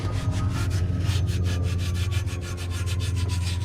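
Scuff pad scrubbing rust off a Toyota Supra, a close, loud back-and-forth rasping in quick regular strokes, continuous throughout with no talk.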